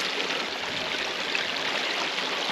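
Water runs steadily and fairly close while laundry gets a hand rinse aboard a boat, a continuous hissing splash with no pauses and no voices.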